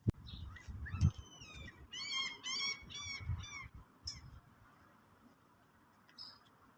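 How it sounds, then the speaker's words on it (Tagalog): Several birds call in bursts of honking, goose-like cries, fairly close and alone over faint background noise, with a brief thud and a soft voice near the start. "Daming ibon dito."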